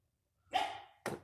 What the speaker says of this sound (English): That is Benjamin. In the background that you hear barking at me.